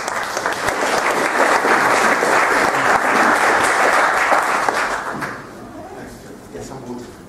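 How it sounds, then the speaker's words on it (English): An audience at a lecture on dryland development in the Americas claps together in steady applause that carries on for several seconds, then thins and fades near the end. "give him a round of applause"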